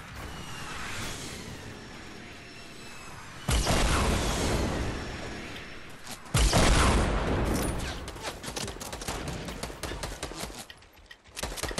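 Gunfire in a video game shootout: sustained bursts of rapid shots with sharp, quick cracks that surge louder twice, with a short pause near the end.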